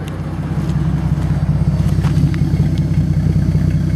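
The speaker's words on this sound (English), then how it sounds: "Look how steady that idle is." A Nissan 280ZX engine idling steadily, a close, loud, even low rumble with a smooth continuous pulse and no revving, heard alone without talk.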